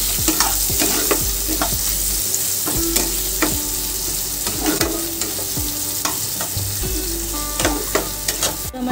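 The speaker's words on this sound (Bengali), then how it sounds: "পেঁয়াজটাকে আমি হালকা করে ভেজে নেব।" Chopped onions fry in hot oil tempered with nigella seeds, a steady loud sizzle broken by repeated clacks of a spoon stirring the pan, with no voices.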